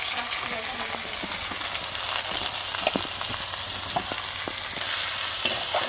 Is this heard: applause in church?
no